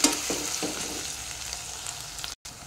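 Ingredients for a boneless mutton curry fry in a pressure cooker, giving a continuous close sizzle with a few soft stirring scrapes and a brief break near the end.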